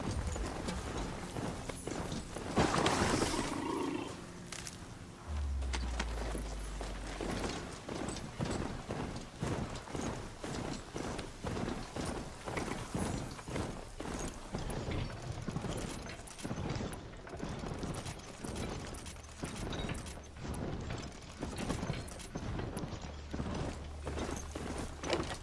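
A mechanical steed in the Horizon Zero Dawn video game trots with steady, rapid metallic hoof clip-clops and faint gear-like clanks, close and continuous throughout.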